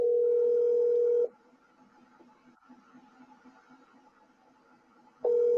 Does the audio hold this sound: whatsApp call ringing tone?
yes